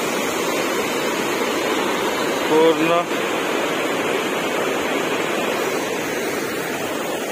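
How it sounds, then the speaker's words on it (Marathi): A natural stream of water flowing beside a dam in hilly countryside, making a steady broadband rush throughout with a brief faint voice in the middle. "हा पाण्याचा झरा एकदम मस्त"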